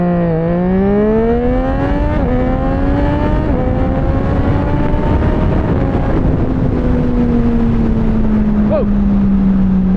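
A Triumph Street Triple 765RS launches hard on a gravel road, its engine loud and close and rising in pitch through several quick gear changes over steady road and wind roar.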